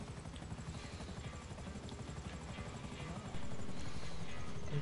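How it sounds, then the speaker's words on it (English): A helicopter in a PS4 video game drones with a steady rotor chop and engine hum, moderately loud and continuous, growing slightly louder toward the end. "Someone took a chopper."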